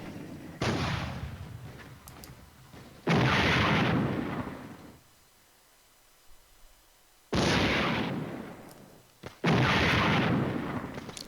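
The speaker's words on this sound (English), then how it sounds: "So we can hear cannon fire going about." Four heavy, booming cannon blasts in the video game Flashpoint Germany Reforged, each followed by a long rumbling decay, spaced unevenly with quieter gaps between.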